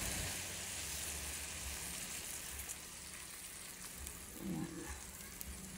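Faint, steady sizzling of an egg frying in a pan for a home-cooked lunch, with a soft stirring clatter near the end and a few quiet words spoken.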